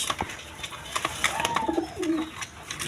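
Pigeons coo softly nearby at a pigeon seller's, with low, rolling calls over faint background rustling and chirps.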